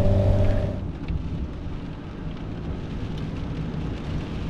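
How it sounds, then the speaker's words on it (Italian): Rain falls steadily during a motorcycle trip, a continuous broad wash of drops, with a low rumble at the start that fades into the even downpour. "Anche la pioggia fa parte del viaggio in moto."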